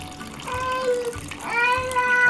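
Water poured into a bowl of flour for sourdough, about 400 grams: a steady near splashing pour under faint child-like voices.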